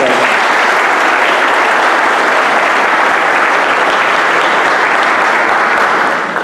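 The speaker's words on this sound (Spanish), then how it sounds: "a quien le pido un caluroso aplauso." Warm, steady applause from a crowd at a municipal gathering fills the whole stretch, loud and dense without a break before easing slightly at the very end.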